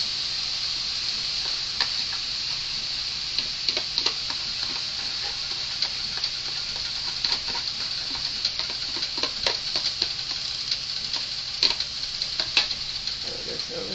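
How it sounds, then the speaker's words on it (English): Canned, already wilted bean sprouts fry in a pan for vegetarian fried rice, giving a steady, close hiss of sizzling oil broken by scattered sharp crackles and pops, with no talking. "Add bean sprouts and cook for another minute"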